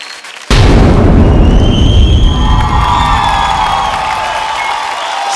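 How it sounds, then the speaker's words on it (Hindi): Studio audience at a TV dance competition show bursts into loud applause and cheering to welcome contestants, a sudden onset of dense clapping with shouts that stays strong and slowly eases over several seconds. "जोरदार ताली से स्वागत करे के जोनू सिंह, निसार खान, मदन मोहन और प्रदीप बाबू की."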